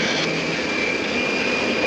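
Vietnam War bomber aircraft take off from a Far East base, a loud, steady jet engine roar with a thin high whine running through it, close and continuous throughout.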